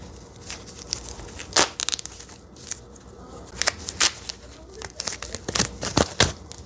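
A taped, wrapped package holding a Coach slim card case is torn open by hand, with crisp crinkling and ripping bursts of paper and tape, close and intermittent, under low background.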